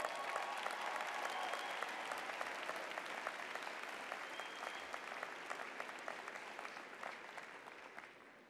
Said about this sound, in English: you all deserve a heartfelt round of applause